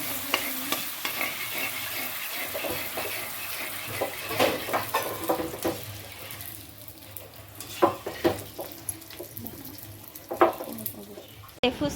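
Phuchka puris frying in hot oil, a steady sizzle with stirring and scraping of a utensil in the pan, close and continuous, with brief clinks throughout.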